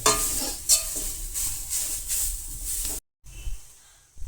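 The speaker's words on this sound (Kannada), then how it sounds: "ಇವಾಗ ಇದನ್ನ ಲೋ ಫ್ಲೇಮಲ್ಲಿ ನೀಟಾಗಿ ಹುರ್ಕೋತಿದ್ದೀನಿ" Grated carrot roasts in ghee in a pan over a low flame with a steady soft sizzle and repeated stirring scrapes. There is a brief silent gap before the frying resumes.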